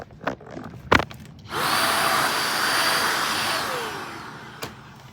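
A powerful 360-degree cordless handheld multi-tool vacuum with a suction brush runs on carpeted stairs, a steady broadband whir starting after a few thumps and holding loud and close for several seconds, then cutting off before a final knock.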